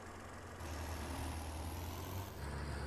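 A tractor engine in Farming Simulator 22 starts up and settles into a steady low diesel idle, a deep rumble that holds for a few seconds before shifting tone near the end; no voices.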